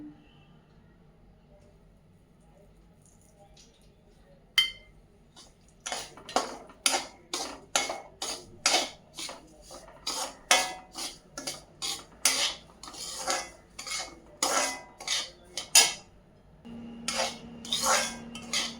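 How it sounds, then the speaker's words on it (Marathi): Semolina being roasted in ghee in a pan, stirred with a metal spoon; after a quiet start, a rapid run of sharp scraping knocks against the pan repeats in an irregular rhythm, close and fairly loud, with no speech. "सुरुवातीला आपण काढून ठेवलेले अर्धा वाटी तूप आता पुन्हा या रव्यात घालून रवा भाजून घेऊया."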